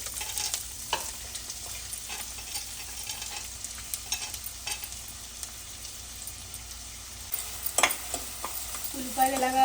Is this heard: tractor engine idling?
no